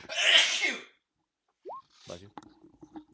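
A single loud, close sneeze bursts out alone, followed after a pause by a short squeak and quiet, scattered speech.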